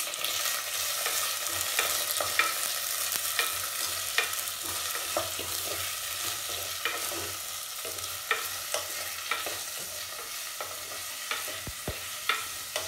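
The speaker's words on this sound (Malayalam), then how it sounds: "ഓണിയൻ, ഗാർലിക് ഇതൊക്കെ ഇതിലേക്ക് ആഡ് ചെയ്ത് കൊടുക്കാം. നമുക്ക് മിക്സ് ചെയ്ത് കൊടുക്കാം." Onion, garlic and tomato sizzle steadily in a pan for a fish curry, with a spoon stirring and scraping at irregular intervals, close and continuous with no voices.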